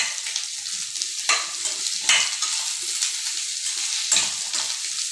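Okra and onion sizzle steadily in a pan while being sautéed, with a few scraping stirs of a utensil against the metal over the continuous frying hiss.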